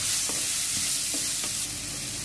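Chopped onions sautéing in hot oil with popped mustard seeds and a pinch of salt, a steady close sizzle broken by a few soft spoon stirs, no voices.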